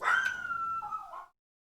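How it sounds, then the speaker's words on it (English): A single dog's drawn-out yelping bark that slides into a whining howl, close and fairly loud, then cutting off into silence. "Stop barking, dog."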